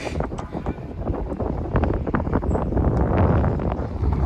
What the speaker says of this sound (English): It's blowing in the wind.